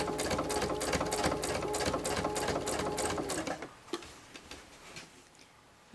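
A sewing machine stitches a tote bag, running with a fast, steady mechanical ticking for a few seconds at close range before stopping, followed by a few faint clicks and handling noises.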